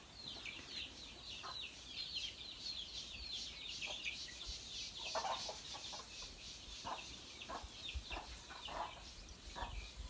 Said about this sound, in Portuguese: as galinhas ali na sombra